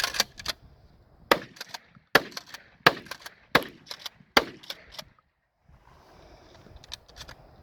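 Shotgun blasts ring out at pumpkins, about seven sharp bangs at a fairly even pace, each with a short crack and echo, followed by a few seconds of quieter rustling.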